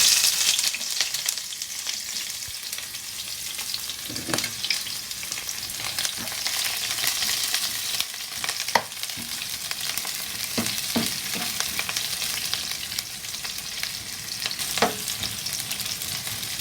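Onion frying in a pan for a Nepali asparagus gravy gives a continuous, close sizzle, with a few spatula knocks and scrapes scattered throughout and no voices.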